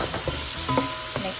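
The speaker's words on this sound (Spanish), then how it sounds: "Luego de freír aquí, sofreír el jamoncito unos minutitos, vamos ahora a echarle lo que es el ajo machacadito." Crushed garlic hitting diced ham as it fries in a pan, a steady sizzle under a few soft stirring scrapes and clicks, close and moderately loud.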